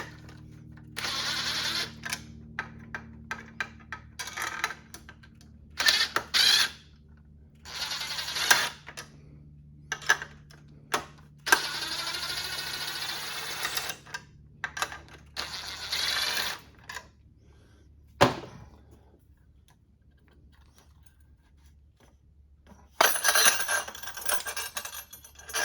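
On a 1967 Honda CT90, tension is released and a plastic part is worked off the rear, producing scattered clicks, rattles and scraping bursts separated by quiet pauses, close up.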